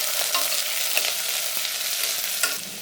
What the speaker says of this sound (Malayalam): കുറച്ച് വേപ്പില നാല് പച്ചമുളക് ഒരു സവോള ഏഴെട്ട് വെളുത്തുള്ളി എല്ലാം കൂടി ഒന്ന് വാട്ടിയെടുക്കാം